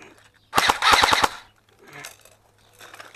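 A small airsoft US M6 rifle fires one rapid burst of about seven sharp, loud pops lasting under a second. Fainter mechanical clatter and rustling follow.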